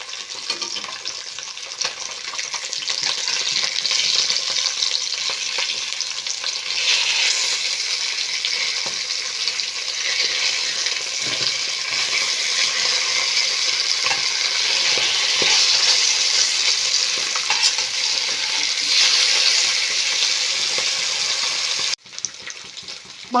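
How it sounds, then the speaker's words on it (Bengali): Pieces of bata fish fry in mustard oil in a wok, giving a loud, continuous close sizzle that barely shifts for over twenty seconds before a brief dip near the end. "এবারে আমি মাছগুলো ভেজে নেব।"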